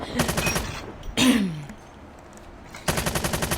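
Rapid automatic bursts from the FR .556 rifle in Call of Duty Mobile, loud and punchy at a fast fire rate, with a short gap and a weapon handling swish between bursts.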